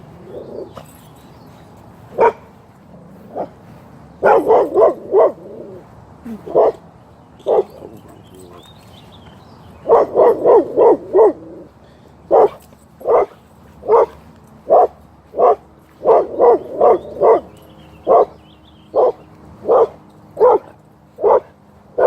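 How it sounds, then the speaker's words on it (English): A dog barks repeatedly while out on a walk in Sharon Woods Metropark, sharp close barks coming in uneven bursts and short runs, with a few whimpering yips between them. "What are you barking at?"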